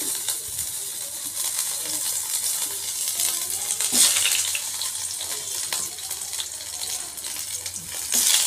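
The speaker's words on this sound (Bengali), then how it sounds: "এবার আমি পটলগুলোকে একটু উল্টে পাল্টে ভেজে নেব" Pieces of pointed gourd sizzle in hot oil in a pan as they are turned over, giving a steady crackling hiss with a few soft clinks of the utensil, close by and with no talking.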